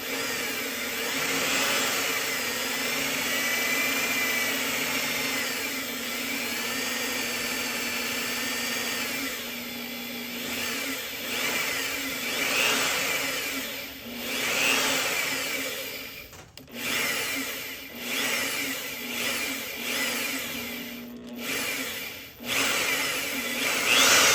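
A power drill bores slowly and steadily into a string roller head, a continuous whirring grind that runs near and loud, easing and dipping in the latter part with brief pauses.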